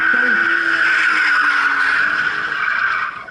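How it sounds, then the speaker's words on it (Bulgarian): A BMW E30 drift car with a 2500 cc, 192 hp engine skids at a drift show, its tires squealing in one loud, sustained screech with engine tone beneath that fades out at the end. "На газ му се движи колата, както казах."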